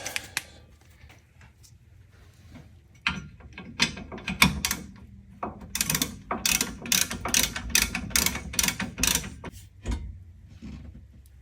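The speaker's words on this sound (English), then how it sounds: "It's a 17mm bolt for the calipers onto the stub. Okay, we'll tighten those up." Ratchet wrench clicking as it tightens the 17mm front brake caliper bolts onto the stub of a 1979 Fiat X19, with quiet shuffling at first, then dense bursts of close metallic ratcheting strokes.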